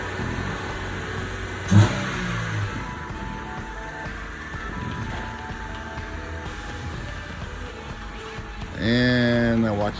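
Car with a Honda B16A2 engine driving away: a mid-pitched engine hum runs under voices, with a brief bump early on and a louder rising rev near the end.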